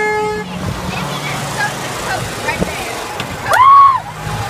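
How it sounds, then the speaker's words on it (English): A car horn honks in a driving video game, one loud sustained toot near the end, over engine and splashing game sounds with people talking in the background. "Honk the horn!"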